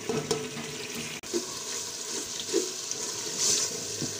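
Whole cumin, cinnamon, green cardamom and black peppercorns fry in hot oil for chana pulao, giving a continuous close sizzle with small pops and crackles throughout and no talking.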